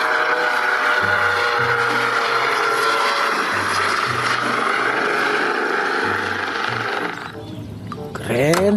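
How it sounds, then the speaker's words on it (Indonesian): A toy police helicopter whirs loudly and continuously, its motor buzz steady with pulsing low tones, before dropping away near the end with a brief clatter. "Wow, helikopter polisi."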